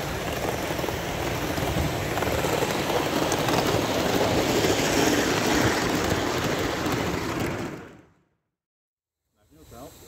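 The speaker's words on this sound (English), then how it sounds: "Hurtling around the outside track at express speeds. Fantastic run of this locomotive" A steam locomotive speeds around the outside track at a Summer Steam event, making a loud, continuous rushing roar that cuts to near silence for about a second before a fainter return.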